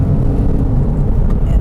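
A 2006 Porsche 911 Carrera S with Tiptronic automatic transmission accelerates, its engine giving a loud, dense, rumbling roar heard from inside the car throughout the short stretch.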